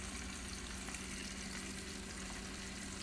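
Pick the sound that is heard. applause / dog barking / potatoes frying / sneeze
potatoes frying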